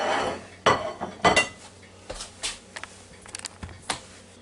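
Plates and dishes clink and clatter in short, separate knocks while food such as shrimp and sausage with rice is served in a kitchen, close and fairly loud, with no talk.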